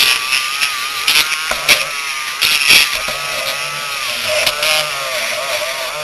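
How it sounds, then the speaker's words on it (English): A Dremel rotary tool, used to clear dust while modding a 3x3x3 puzzle cube, whirs steadily at close range with a high motor whine and a few brief knocks and rattles. "And left the Dremel on accident."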